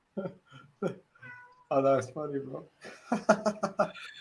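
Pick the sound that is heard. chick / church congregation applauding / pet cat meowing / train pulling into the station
pet cat meowing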